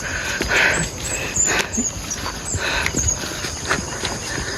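Hooves clop unevenly on hard ground as a horse walks, with outdoor noise and high insect-like hiss in the background; no one speaks.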